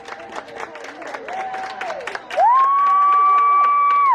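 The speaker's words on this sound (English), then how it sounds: "All the clapping, all the clapping." Crowd clapping and cheering for graduates at an outdoor ceremony, irregular claps and voices at first, then a loud sustained whoop or shrill cheer rising above the noise and holding to the end.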